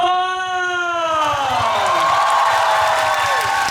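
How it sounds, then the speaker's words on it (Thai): Audience at a Thai TOP FORM grand finale event applauding and cheering for young performers, a full steady wash of clapping and cheers, with one or two voices wavering loudly over the start. "ขอเสียงปรบมือกับน้องๆครับ"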